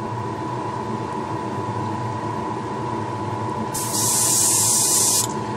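Clear blue paint sprayed onto a model of the Enterprise 1701-A, a single steady hiss lasting about a second and a half that starts abruptly and stops cleanly, close and loud over a constant low background hum.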